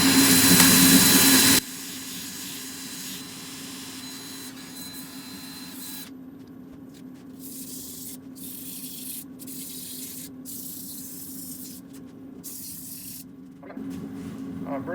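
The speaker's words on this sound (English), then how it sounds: "we're gonna do some sanding. I'm gonna start with 80 grit" Sanding a wooden segmented bowl with 80 grit paper, a steady continuous abrasive hiss and machine whir running throughout at moderate level, with a louder burst at the start and brief dropouts in the high end.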